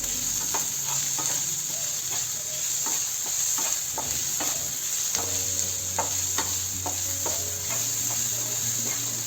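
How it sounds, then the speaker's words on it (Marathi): Chopped onion with a pinch of salt fries in a pan for radish paratha, giving a steady sizzle with intermittent scraping and clicking of a spatula stirring it, close up and with no talking. "कांदा थोडा लवकर भाजण्यासाठी आपण थोडं मीठ घालून घेऊ म्हणजे लवकर परतलं जाईल"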